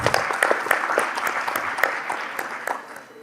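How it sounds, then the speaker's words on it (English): Applause from an audience at the MEWA 2025 walnut industry event, a dense patter of clapping that holds steady and thins out toward the end. "Let's give Sebastian a warmer round of applause."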